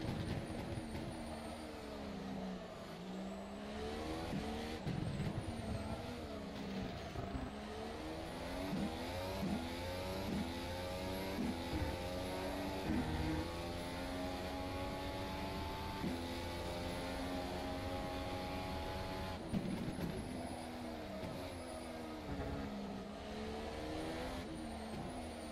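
A race car in rFactor 2 laps Silverstone, its engine droning steadily and loud as it climbs and drops through the gears, with repeated rising revs and downshifts on corner entry.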